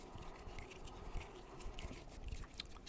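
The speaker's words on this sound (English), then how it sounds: "I'm going to be making some hand sounds for you guys." Soft, close ASMR hand sounds: quiet, continuous rubbing and light scratching textures with small crackly taps, faint and steady with no talking.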